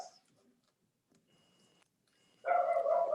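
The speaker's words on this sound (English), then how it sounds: "Oh, my dog is barking, sorry." A dog barks indoors, a short burst of moderately loud barks near the end after mostly quiet background with faint ticking sounds.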